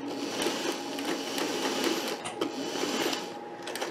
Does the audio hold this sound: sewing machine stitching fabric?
yes